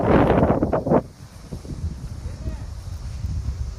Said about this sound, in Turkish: Hava esiyor burada.